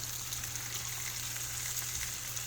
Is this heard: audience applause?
no